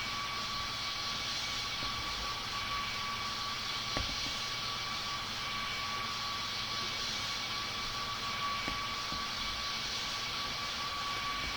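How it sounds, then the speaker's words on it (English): Aircraft taxiing, a steady droning engine with a constant high whine, continuous and moderately loud, with a couple of faint clunks and no talk. "So let's just keep on taxiing."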